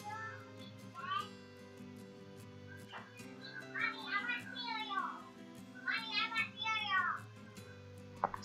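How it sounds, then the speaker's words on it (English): Someone shouts from the background of a home, her high, wavering calls in two bursts over a steady low indoor hum, distant and moderately loud. "My sister is shouting that she wants cereal"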